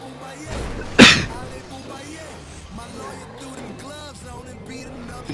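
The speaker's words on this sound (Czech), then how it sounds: "Já nesnáším, když lidi kejchají do mikrofonu" A single sharp sneeze blasts into a microphone over Grand Theft Auto V voice chat, loud and close, followed by ongoing talk and game engine noise.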